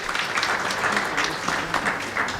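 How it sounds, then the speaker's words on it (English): Conference audience applauding after panelists finish at a legal education event, dense rippling claps sustained and fairly loud throughout, no talk over it. "I think they deserve a round of applause"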